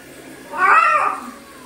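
A cat meows once during a bath, a single drawn-out, plaintive wail about a second long, close and loud, over faint background noise.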